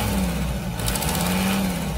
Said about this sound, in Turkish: Bak şimdi gaz vereceğim.